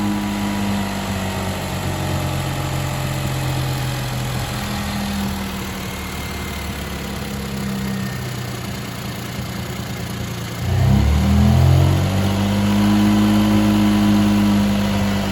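A small car's engine on a cold start in a hard freeze hunts at idle from a faulty idle air control valve. It runs as a steady, loud, close idle, then briefly surges in a rev before settling to a slightly higher hum.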